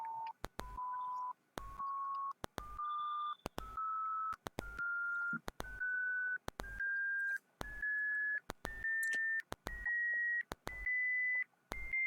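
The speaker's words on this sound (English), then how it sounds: "here we can listen the beep sound, which is increasing gradually" Python winsound tones from a computer, a series of about a dozen short steady beeps separated by brief gaps, each one pitched slightly higher than the last in an even rising sequence, clear and alone.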